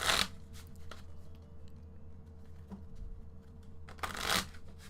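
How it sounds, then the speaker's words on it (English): Playing cards are shuffled close by in soft riffling bursts, louder at the start and again near the end, with quieter handling in between and no talk. "Let me shuffle up. More of that shuffling ASMR for you."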